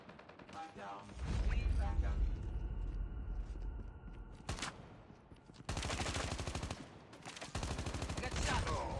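Rapid bursts of automatic gunfire in the COD Mobile video game, sharp repeated shots in several volleys with brief pauses, mixed with game speech and effects.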